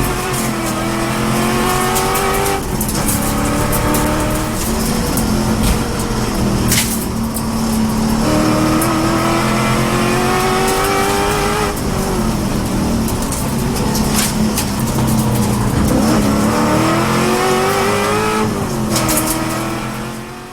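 A carbon fiber widebody BMW M3 pulls hard around a race track, its engine droning loud and close as it repeatedly revs up through the gears with brief dips at each shift.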